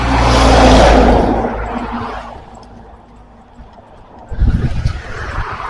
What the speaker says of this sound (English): Sorry for the traffic noise.